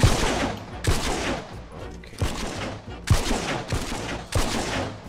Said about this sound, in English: shotgun. My favorite weapon.